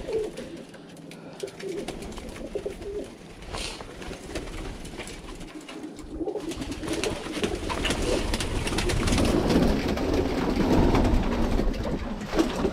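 Birmingham Roller pigeons coo steadily in a loft, a soft continuous murmur of several birds that grows fuller and louder toward the end, with some rustling and background noise.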